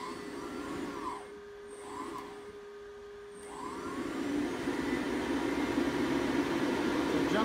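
HPEVS AC-35 electric motor on 24 volts whines up in quick repeated revs, each rising and falling, then climbs to a sustained higher whir, heard close with no talking.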